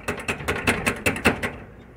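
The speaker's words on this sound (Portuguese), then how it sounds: "Aí eu vou tentar aqui tirar primeiro esse pedaço de chave quebrado dentro." A broken key piece being worked out of a size 25 padlock, a close, fairly loud series of about eight rhythmic metallic clicks and ratcheting scrapes that tapers off, no talk.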